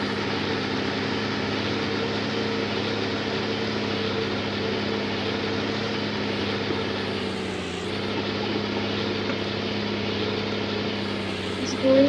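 Ursus 1634 tractor engine running steadily while driving through a field spreading fertilizer, a constant loud droning hum with a brief dip midway and occasional talk over it.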